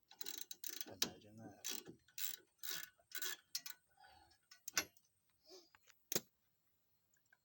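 A socket wrench ratchets in quick bursts of clicking while wheel bearing bolts are removed, the clicks coming near and fairly loud with short pauses, followed by a couple of sharp isolated knocks and a brief spoken remark.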